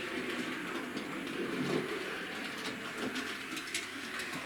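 Fairburn tank model locomotive running through reverse curves on a test track, a steady soft rolling rumble with faint clicking, continuous and fairly close, with no talking.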